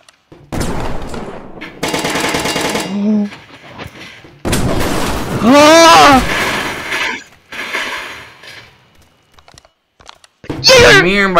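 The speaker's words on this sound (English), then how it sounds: "I'm gonna shoot that building down" Gunfire from the vehicle-building video game Brick Rigs, loud rapid bursts of shots interleaved with excited speech and whooping voices, the firing returning near the end.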